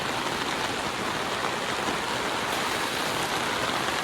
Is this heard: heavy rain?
yes